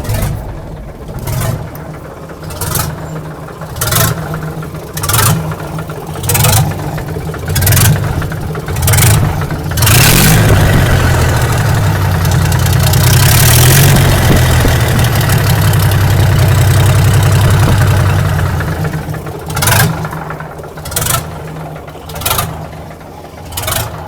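A Mack B61 truck's diesel engine idles loudly just after startup. Its rough, lumpy chugging and regular pulsing knock swell into a brief smoother rise midway, then settle back to the steady idle, close up.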